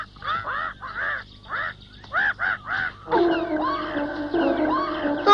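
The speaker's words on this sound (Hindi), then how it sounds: "क्यों चिल्ला रही हो मैना?" A cartoon myna bird screeching, a run of harsh squawking calls followed by a longer continuous raucous cry, loud and close, with no talking over it.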